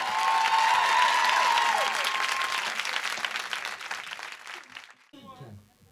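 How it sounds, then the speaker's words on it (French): A live audience at a private concert at La Mémo in Montauban breaks into loud, dense applause with a few whistles early on, then thins and fades out over several seconds as a voice comes in near the end. "A tout de suite et applaudissements du public de la Mémo."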